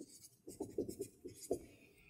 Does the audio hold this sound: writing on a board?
yes